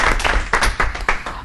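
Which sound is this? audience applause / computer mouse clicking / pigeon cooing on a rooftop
audience applause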